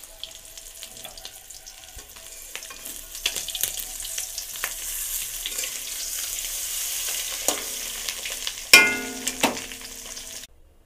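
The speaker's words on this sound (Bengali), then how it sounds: "ভাজছি, আমি এবার উল্টে দেবো।" Fish roe frying in a pan, a steady soft sizzle with occasional clinks and scraping, then a louder burst of sizzling and stirring as the pieces are turned.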